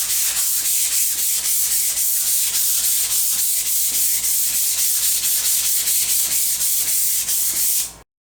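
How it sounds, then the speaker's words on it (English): Light hand sanding of poly-coated wooden shelf boards with 220 grit sandpaper, a steady rhythmic scratchy rubbing of quick back-and-forth strokes, close and continuous until it stops abruptly. "I'm going to go over these with some 220 grit sandpaper very lightly,"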